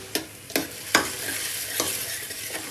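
Cumin and other spices roast in a hot pan under a steady sizzle while a spoon stirs and scrapes, giving several distinct scraping strokes close up.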